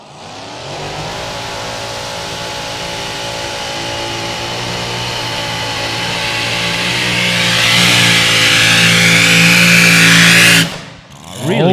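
Mini modified class tractor pulling vehicle at a European championship pull, its engine revving loud and steady, climbing in pitch and intensity toward the end before cutting off abruptly near the close.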